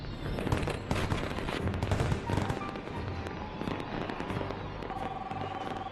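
Fireworks show set off by pyrotechnicians: rapid crackling bursts and popping volleys rattle continuously at moderate distance, layered and dense, with a faint tonal beep near the end.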